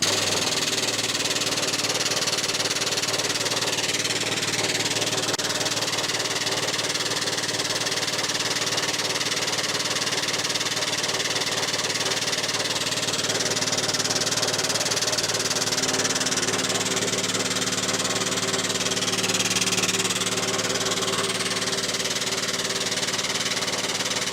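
An 8-ton air-powered hydraulic ram for a workshop crane runs with a steady pneumatic engine-like drone and vibration, close and unbroken, with no talking.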